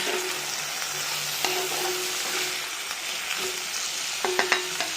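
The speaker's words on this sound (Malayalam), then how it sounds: "സവാള എരിഞ്ഞത് പച്ചമുളകും കൂടെ ഇട്ട് ഒന്ന് വഴറ്റി അതിനുശേഷം അരിഞ്ഞു വെച്ചിരിക്കുന്ന കോവയ്ക്ക ഇട്ട്" Ivy gourd sautéing in a pan with chopped onion and green chilli, a steady soft sizzle under repeated scrapes and taps of a stirring spoon, close and alone.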